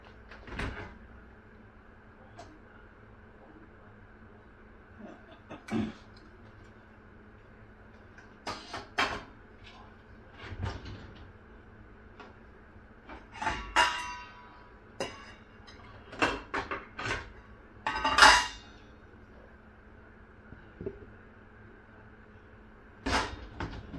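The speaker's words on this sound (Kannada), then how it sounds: "ಈಗ ಮುಚ್ಚಳ ಹಾಕಬೇಕು." A lid is set onto a cooking pan of raw banana curry, sharp isolated metallic clatters and knocks scattered across a quiet kitchen with long gaps between them.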